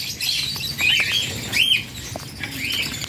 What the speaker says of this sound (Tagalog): Ito, Sir Waltz, ito yung ibon mo yung naka-reserve sa'yo